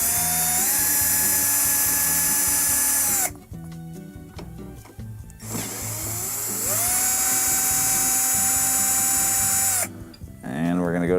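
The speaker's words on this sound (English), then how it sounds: "we're going to remove the two screws here on the frame" A power drill whines loudly and close as it backs out Phillips screws from a Samsung dishwasher frame, running in two long bursts separated by a short pause, with a brief spin-down at the end.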